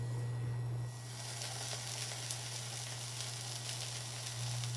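Chorizo sizzles in olive oil in a pan over medium heat, a steady, close, bright frying hiss that runs through the whole stretch with small crackles, no talking.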